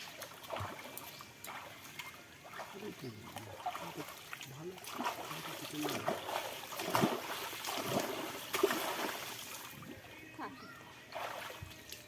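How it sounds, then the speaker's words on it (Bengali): People bathing in open water make light, intermittent splashes and trickles, faint and partly covered by people talking nearby. "এই দেখো আমরা স্নান করছি"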